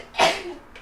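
One sharp sneeze bursts out close by, followed by a short breathy exhale.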